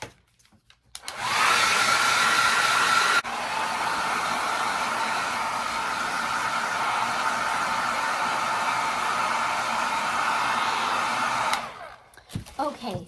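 Hair dryer blowing steadily onto a tin can for about ten seconds, a loud, even whooshing hum that briefly changes pitch, then clicks off to quiet handling sounds.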